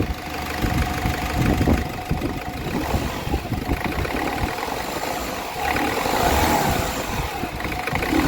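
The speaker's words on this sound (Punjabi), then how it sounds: "ਕਰੋ ਇੰਜਨ ਦਾ ਸਾਊਂਡ ਚੈੱਕ ਜੀ" A Ford Figo engine with a knocking fault and an oil leak runs nearby, idling roughly then rising in several revving surges and settling back, loud and continuous with no talk over it.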